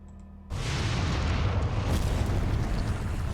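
A fire elemental summoning effect in the Foundry VTT tabletop game, breaking in suddenly as a loud, dense whooshing roar of flame that holds steady for about three seconds, with no speech over it.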